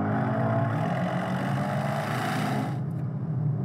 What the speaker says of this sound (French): un moteur V8 biturbo de 612 chevaux